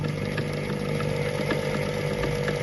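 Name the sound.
sewing machine stitching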